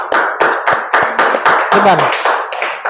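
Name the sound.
students clapping hands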